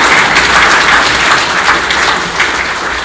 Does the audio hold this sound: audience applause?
yes